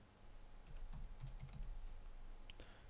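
A short run of keystrokes on a computer keyboard as a CAD command is entered, several quick soft clicks close and quiet over a faint room hiss.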